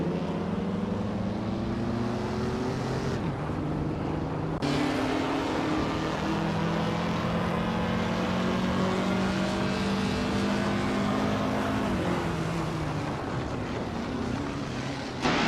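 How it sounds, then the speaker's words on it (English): Vintage race cars from the 1950s, including a 1957 Maserati 250F T2 and a 1955 Connaught Type B, roar through a video game race, with sustained overlapping engine drones rising and falling in pitch and no talking. "Bot's well-placed V is racing the Maserati 250 FT2 from 1957"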